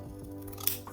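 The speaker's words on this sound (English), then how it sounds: "I'm going to trim off the seam allowance" Scissors trim fabric seam allowance on a leopard print jacket, giving a quiet, brief snip or two up close.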